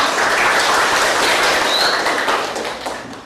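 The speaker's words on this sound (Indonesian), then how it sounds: "Tepuk tangan untuk kelompok 1" Loud, close applause from a group of students after a classroom group presentation, a dense wash of clapping that gradually tapers off toward the end.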